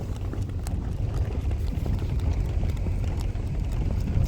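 Sultan, a racing horse, walks on a practice field, with its hooves clip-clopping in a steady rhythm that sits close and fairly loud above a constant broadband rumble from the field.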